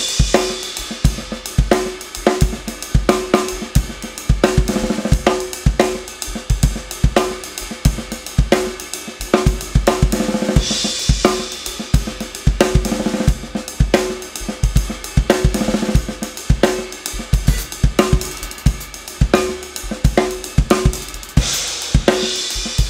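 Drum kit played in a short roll pattern with a quintuplet feel, rolls filling the last three spaces of each beat; dense, steady percussive hits repeat throughout with cymbal wash, no talking.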